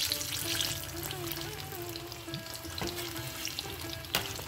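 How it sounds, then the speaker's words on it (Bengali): Stuffed chilli chops frying in hot oil on a medium flame as a street-food style snack, a steady close sizzle with light crackles and a couple of sharp pops, no talking. "তো ভালো করে এরকম তেলের ছিটা দিয়ে দিয়ে এটাকে ভেজে নিতে হবে।"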